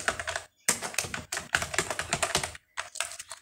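A website name being typed on a computer keyboard, with quick bursts of close, crisp key clicks and brief pauses between runs, with no talking.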